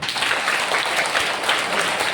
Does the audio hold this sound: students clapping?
yes